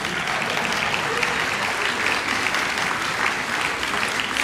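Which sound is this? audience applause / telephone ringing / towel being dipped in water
audience applause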